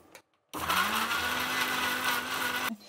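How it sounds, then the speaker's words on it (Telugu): A mixer grinder blends tomatoes, tamarind and salt in one loud, continuous whirring burst of about two seconds that starts and stops abruptly, with no talking. "ఇప్పుడు దీన్ని మిక్సీ పట్టేద్దాం."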